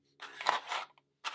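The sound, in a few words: scissors cutting excess vinyl backing material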